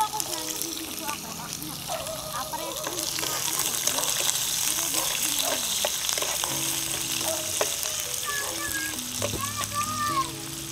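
Butter frying in a pan at a campsite cook-out, a steady sizzle and hiss with clinks of utensils, while adults and someone talk nearby throughout.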